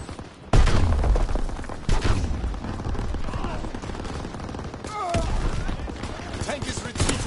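Game gunfire from Call of Duty: WWII multiplayer, a dense barrage of rapid shots and bursts sounding close and loud, with a sharp opening blast and sustained firing throughout.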